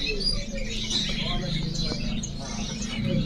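A male spotted cucak jongkangan songbird calls in short chirps and warbles at a bird seller's, mixed with steady background chatter from people talking nearby.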